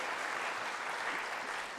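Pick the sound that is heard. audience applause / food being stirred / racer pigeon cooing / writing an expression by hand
audience applause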